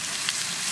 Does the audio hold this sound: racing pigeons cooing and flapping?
no